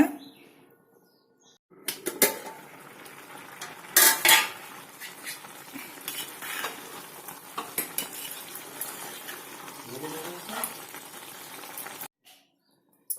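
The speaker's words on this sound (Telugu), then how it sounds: "ఇప్పుడు మూత పెట్టుకోండి మూత పెట్టుకొని ఉడికించాలండి" Metal lid set onto a cooking pot of Moradabad-style chicken biryani in a home kitchen, a couple of sharp clanks followed by quieter scrapes and rattles of cookware against a soft background.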